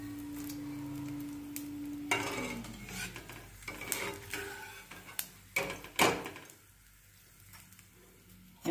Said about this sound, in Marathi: असा डिंक चांगला पांढरा शुभ्र तळून घ्यायचा